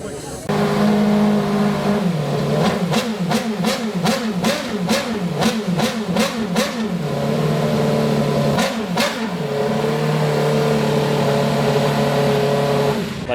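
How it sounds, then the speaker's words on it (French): A Red Bull RB7 Formula 1 car engine revs at a parade during a historic Grand Prix de France, the loud drone punctuated by a fast series of sharp blips and throttle changes, close by with faint crowd noise. "il y a actuellement la parade des F1 qui est en train d'avoir lieu. Ça fait déjà vraiment pas mal de bruit"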